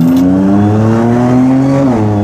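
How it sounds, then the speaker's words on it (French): A supercharged V6 car engine pulls hard and loud from close inside, its tone climbing steadily with a layered compressor whine, then dipping briefly near the end. "C'est incroyable le bruit du compresseur."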